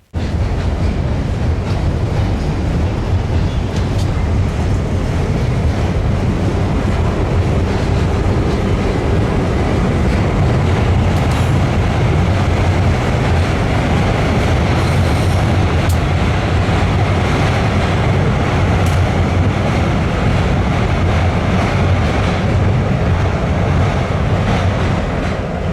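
Two freight trains roll past at Pine Junction in Gary, a loud, steady rumble of rail cars with clattering wheels and wind buffeting the microphone, continuous throughout.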